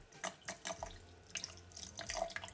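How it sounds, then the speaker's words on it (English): Water poured from a tap-like stream into a celery juice mix, a close, soft splashing that comes in a few short bursts and then runs steadily, quiet and without any talk over it. "I'm just gonna add my remaining water"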